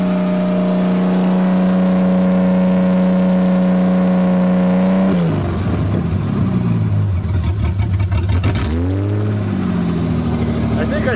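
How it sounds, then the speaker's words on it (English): An old Toyota engine that sat unused for years races at a steady high idle with its throttle stuck, then the pitch wavers and surges near the end, loud and close, while voices talk over it. "The throttle stuck."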